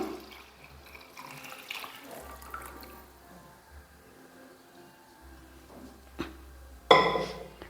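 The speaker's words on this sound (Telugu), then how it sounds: "సో మనం వాటర్ అనేది వేసుకుంటున్నాను" Water goes into an egg biryani pot in intermittent splashing pours, with a low hum underneath and a sharp louder splash near the end.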